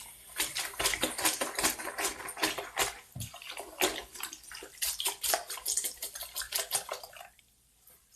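A synthetic wig is swished and gyrated through a basin of water, producing continuous splashing and sloshing with rhythmic bursts, close and fairly loud, ending in a brief quiet stretch.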